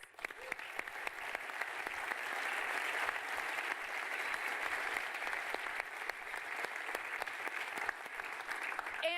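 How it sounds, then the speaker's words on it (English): Sustained audience applause at a conference closing session, dense steady clapping from a large crowd filling the whole stretch, with a few sharper nearby claps standing out. "So give your guys a round of applause."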